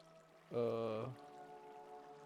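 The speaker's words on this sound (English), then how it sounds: "Alright, I think all we gotta do is one water there." Water is placed from a bucket in the Minecraft video game, giving one short pouring burst that stands out clearly before fading back to quiet game background.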